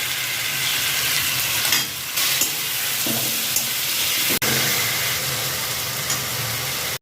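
Marinated taro stolons land in a hot frying pan where tomatoes have already been fried, giving a steady, fairly loud sizzle and hiss throughout with faint stirring scrapes and no talking.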